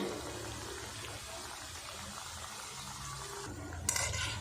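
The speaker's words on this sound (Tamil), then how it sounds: "எண்ணெய் சூடாகவே நம்ம ரெடி பண்ணி வச்சுருக்கிற பீசஸை இதை சேர்த்திக்கலாம்" Pieces of wheat flour dough fry in hot oil over a medium flame, giving a steady, soft, low-level sizzle and bubbling that swells into a brighter burst near the end.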